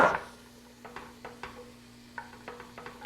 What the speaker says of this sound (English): Let me put my chopped mushrooms in.